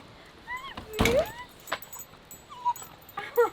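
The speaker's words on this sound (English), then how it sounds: "I heard you barking like a crazy mad dog." A dog whimpers and gives a few high yips at close range, short whining cries bunched together in a quiet outdoor spot in Portree on the Isle of Skye, Scotland.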